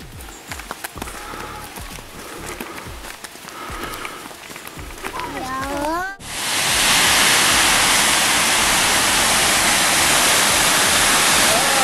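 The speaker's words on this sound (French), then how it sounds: "Là, c'est une cascade." Voices and scattered movement at first, then a sudden shift to a loud, continuous roar of rushing falling water, close and steady.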